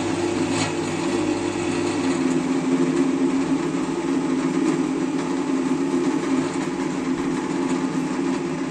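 Belmash variable-speed drill press spinning at its top setting, a steady whirring motor hum with a constant tonal drone, close and continuous, with no voices over it.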